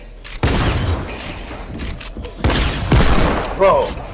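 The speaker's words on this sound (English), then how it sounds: "Bro, I hit you with this hand cannon so damn bad." Hand cannon gunfire in a video game: heavy booming shots, several in quick succession, loud and close, spread over a few seconds amid other game noise.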